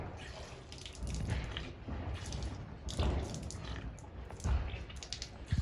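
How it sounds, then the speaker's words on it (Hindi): A tap runs while hands are washed for wudu, with water splashing and gurgling at close range in uneven bursts, fairly quiet and with no talking. "आपने पानी खोला, अपने हाथों को कलाइयों तक धो लिया"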